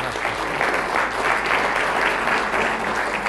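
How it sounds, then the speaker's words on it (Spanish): Steady, dense applause from an audience welcoming Dr. Sabsay at an evening talk at the HCD San Isidro council chamber, continuous and full throughout with no voices over it. "para el que pido un fuerte aplauso"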